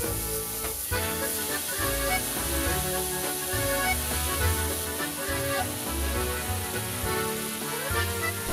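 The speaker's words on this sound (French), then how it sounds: "vous mettez vos lardons en cuisson" Bacon lardons frying in an oiled pan give a steady, dense sizzle and crackle that runs unbroken throughout, loud and close, with no voices over it.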